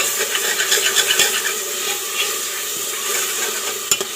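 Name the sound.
tomatoes sizzling while being sautéed in a pan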